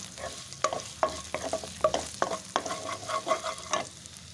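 Onions and coarsely crushed raw garlic fry in a pan, giving a steady close sizzle broken by a run of sharp spoon scrapes and clinks every half second or so as the mix is stirred.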